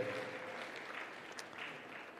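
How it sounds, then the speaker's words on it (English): Audience applause at a Merck Foundation Africa Asia Luminary conference attended by the President of Tanzania, a soft, steady patter of clapping from a hall crowd, heard faint and somewhat distant throughout. "Ladies and gentlemen, another round of applause to Dr."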